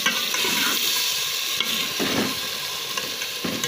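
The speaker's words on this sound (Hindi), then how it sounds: "इसके अंदर मैंने आलू और मटर डाल दिए, इनको फ्राई करते हैं" Potatoes and peas fry in oil in a pan with a steady, close sizzling hiss. A spatula stirs through the pieces with occasional scraping sounds. No one speaks.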